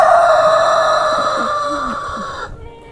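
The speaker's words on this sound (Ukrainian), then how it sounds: "Сьогодні гарний настрій у півника. Його друг сьогодні з самого рання озивається йому." A rooster on a Ukrainian home farm crows one long, loud, close cock-a-doodle-doo that holds for about two and a half seconds and then cuts off, with no talking.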